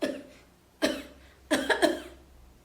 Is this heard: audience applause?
no